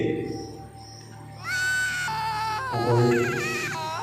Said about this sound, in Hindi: किसी की रोने की आवाज़ आ रही है, किसी लेडी की